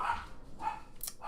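Dogs bark faintly at a distance, three or four short barks spaced unevenly over a low background hiss.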